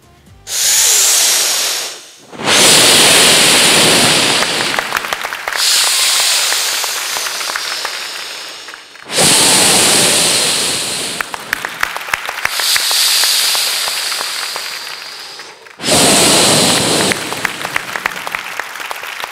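A young girl on a festival stage imitates ocean waves with her voice: hissing, breathy surges that swell and break in several bursts separated by brief pauses, sounding close and loud.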